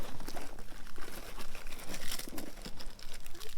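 A child fishes an Oreo from a snack pack, producing continuous crinkling and rustling of a plastic wrapper close by, steady and busy throughout without speech.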